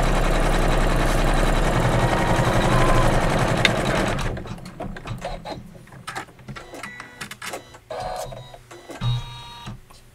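An embroidery machine stitches a tack-down line around fabric on a pillow block, a fast, steady, close mechanical whir for about four seconds, then stops, followed by scattered handling clicks and rustles.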